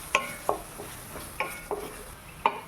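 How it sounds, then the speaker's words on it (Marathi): Coconut masala paste, made from roasted coconut, being sautéed in a pan on a low flame, with a soft continuous sizzle and several separate scrapes and taps of a spoon against the pan, close up, with no talking. "खोबरे भाजून घेतलेले ते वाटण याच्यामध्ये टाकून घेऊया. हे पण मंद गॅसवरती परतून घेऊया."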